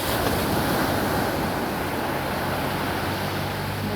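Sea waves wash onto a beach in Brunei, a steady loud broadband rush of surf with some wind noise, continuous and close, with no talking.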